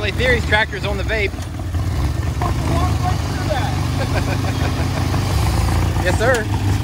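Low, steady tractor engine idle rumbling on a steep rock-crawling trail, continuous and fairly close, with people talking and a whoop over it throughout.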